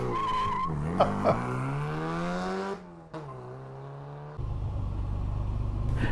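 A six-cylinder MG CGT launches up a hill climb course, its engine revving hard and rising in pitch nearby, then fading as it pulls away, followed by a steady rumble of another engine.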